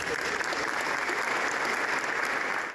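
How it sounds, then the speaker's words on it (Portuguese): Applause at a funeral wake as the coffin is closed: a sustained, dense wash of many hands clapping, steady and fairly distant, ending abruptly. "o caixão foi fechado sob muitos aplausos"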